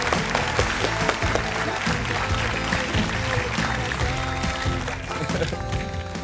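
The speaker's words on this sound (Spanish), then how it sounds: "Muy bien, un aplauso para él." An audience applauds on a Spanish entertainment show, a steady wash of clapping that stays loud for the whole stretch with music playing underneath.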